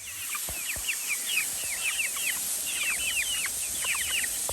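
Several chickens cluck and chatter continuously at a moderate distance over a steady hiss of background noise.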